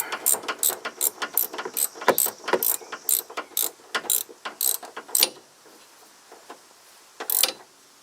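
Rapid ratcheting clicks from a hand wrench as a small nut is tightened onto a bolt while fitting SumoSprings helper springs, running in quick bursts of close clicks, pausing briefly, then one last short burst.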